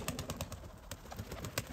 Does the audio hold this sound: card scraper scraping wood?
no